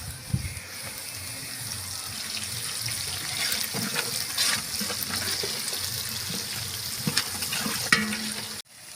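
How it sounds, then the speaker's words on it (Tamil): Onions and green chillies sautéing for a large batch of beef dum biryani, a continuous soft sizzle with occasional stirring scrapes and clinks, moderately close. "ஐம்பது கிராம் பச்சை மிளகாய் சேர்த்துக்கலாம் நல்லா வதக்கி விட்டுக்கலாம்"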